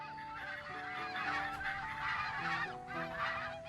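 Loud, continuous honking and quacking of ducks in a video game, a dense overlapping flock of calls rising and falling over steady background music with sustained tones.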